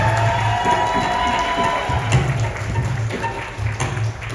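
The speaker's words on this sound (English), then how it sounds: "give the Vivaah a nice round of applause" Guests at a Hindu Vivaah Sanskar wedding ceremony break into lively applause and cheering, a close, crowded mix of clapping and shouts that rises and falls over several seconds.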